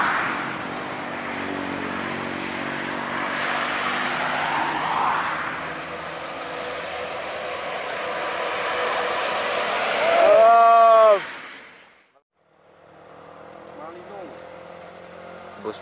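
A Malino Putra tour bus drives along a toll road in Sumatra with a steady, loud engine and road rumble that swells as it passes close by. A horn sounds near the end, then the noise drops out briefly before resuming.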